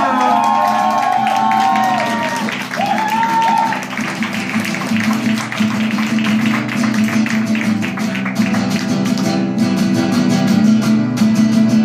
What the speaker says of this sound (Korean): 우리 다 같이 큰 박수 부탁드립니다